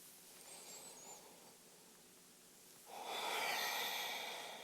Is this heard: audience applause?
no